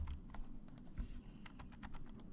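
Fingers tap keys on a computer keyboard in quick, uneven clicks, with bursts of several keystrokes and short pauses between them. The sound is quiet and close.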